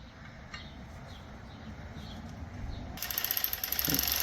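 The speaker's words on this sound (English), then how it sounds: "Got our 10mm on the head of the bolt there. Just gonna go ahead and snug them all down." Clicking of a 10mm socket ratchet snugging down clutch bolts on a 1973 Datsun 240Z, quiet and close, with a brighter, louder burst of ratcheting toward the end.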